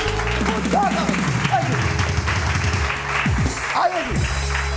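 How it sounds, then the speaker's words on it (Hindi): A studio audience claps steadily through the whole stretch on a Pakistani morning television show, with a voice talking loudly over the applause. "तुम लोग तालियां बजा दो जोर जोर से"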